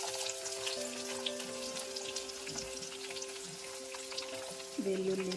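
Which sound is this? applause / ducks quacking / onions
onions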